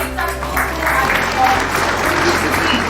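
Audience applause at an anniversary celebration and lucky draw event, a steady dense wash of clapping from a crowd that holds evenly at close range for a few seconds with no voices over it.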